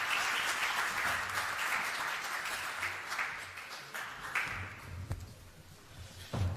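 Loud, sustained applause fills a Senate conference hall at a Prosciutto Veneto DOP event as a departing minister is sent off, with dense clapping from a sizeable audience that holds steady and then slowly thins toward the end.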